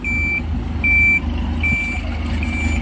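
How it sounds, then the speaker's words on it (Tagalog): Truck backing up with its reverse alarm sounding four evenly spaced high beeps over a loud, close, idling engine rumble, with no voices. "So ayan guys, so atras muna yung truck siguro."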